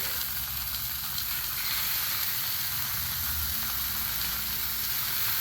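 Bacon sizzles loudly and steadily on a Blackstone griddle coated with Pam cooking spray, giving a continuous close crackling hiss with no pauses.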